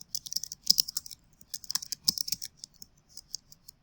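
Fingers type quickly on a computer keyboard nearby, producing clustered bursts of crisp key clicks with short pauses between them.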